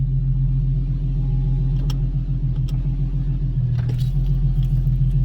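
An Infiniti G37 idles with a deep, steady rumble close by, its low throb holding even throughout with a few faint clicks over it.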